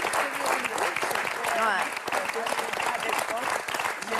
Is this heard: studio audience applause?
yes